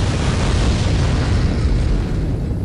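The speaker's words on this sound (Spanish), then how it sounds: "Eso, esas explosiones." Dynamite blasts in the video game Return to Castle Wolfenstein produce a loud, deep booming roar that rumbles on and slowly decays over a few seconds, with no voices.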